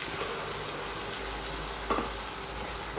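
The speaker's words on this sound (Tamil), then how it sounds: "போட்டு நல்லா வதக்கிக்கலாம்" Ground tomato sizzles steadily in hot oil with browned onions for chana masala: a continuous, close frying hiss with faint stirring scrapes and no voices.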